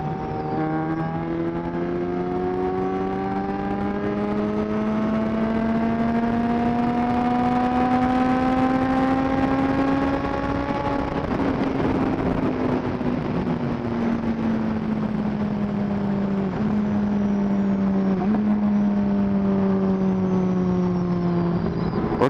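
A 600cc motorcycle with an untuned full exhaust system holds sixth gear near 5,000 RPM, a steady droning engine note that slowly climbs in pitch, then eases and dips, close and continuous with no talk.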